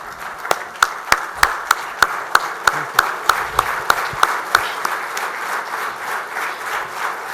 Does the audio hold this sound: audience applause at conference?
yes